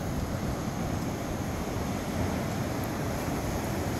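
Waves wash against a brick beach in a constant, dense roar while wind buffets the microphone. No talk is heard over the surf.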